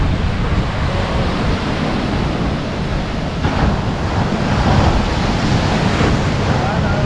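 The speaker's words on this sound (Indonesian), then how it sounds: "gue bawa kalian ke pantai dulu" Waves breaking on a Lombok beach, a loud continuous roar of surf with heavy wind noise on the microphone and swells rising and falling, a voice faintly mixed in.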